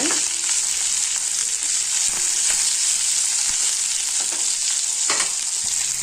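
About one and a half handfuls of washed curry leaves sautéing in a pan for chutney crackle with a steady, bright, close sizzle, with occasional stirring clicks and scrapes and no talking.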